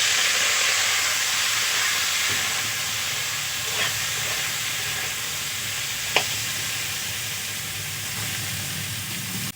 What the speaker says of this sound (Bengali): এখন মাছ ভাজার তেলের মধ্যেই আমি ডুমুরগুলো ভালো করে ভেজে নেব